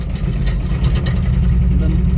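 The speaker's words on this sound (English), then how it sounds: "as you hear, it starts. But it only goes on one cylinder." An old boat engine idles roughly on a single cylinder, a loud, close, steady low chugging throb with no talk over it.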